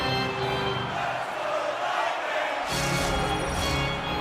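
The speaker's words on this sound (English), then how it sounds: "You can feel the energy in this crowd." Crowd noise in an ESportsBattle e-hockey video game, a loud continuous roar of cheering that dips briefly in the middle and then swells back up.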